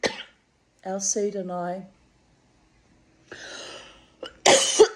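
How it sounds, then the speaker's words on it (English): A short, harsh burst of coughing set off by cigarette smoke comes right after a few words of speech, loud and close. "have to shut his cigarette smoke is actually making me cough"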